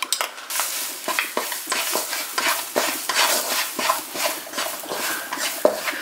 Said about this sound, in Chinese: 用小火翻炒一下